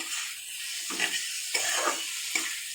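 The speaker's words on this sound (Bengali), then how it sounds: "এখানে দেখুন মশলাটা দিয়েও একটু নাড়াচাড়া করে নিচ্ছি।" Spice paste frying in a pan for a vegetarian papad curry, a bright continuous sizzle punctuated by four rhythmic scraping stirs of a spatula, close and alone with no voices.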